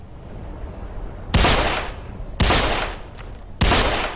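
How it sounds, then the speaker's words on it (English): Three loud, sharp gunshots ring out at even gaps in Deadfall Adventures, fired at dynamite, each one a hard crack with a short decaying tail over a low background hum. "I think this means shoot the dynamite"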